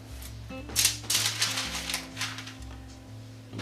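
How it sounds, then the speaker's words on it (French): Crystal paper being rubbed and smoothed over freshly glued paper during marouflage, giving soft, close brushing and rubbing strokes in short bursts, with a low steady hum underneath. "marouflage avec le papier cristal."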